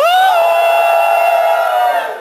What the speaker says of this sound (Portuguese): Pai Toinho, todo mundo gritando.